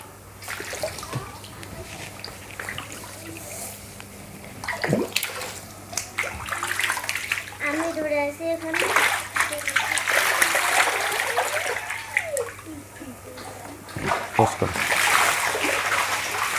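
Water splashing and sloshing as fish are netted from a biofloc tank, irregular bursts of splashes over a steady hum, with people talking throughout.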